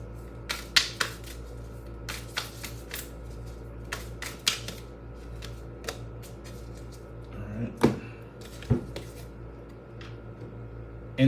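Tarot cards are handled and shuffled in a quiet room, giving scattered sharp taps and papery clicks spread irregularly over several seconds, close but faint, with no talking.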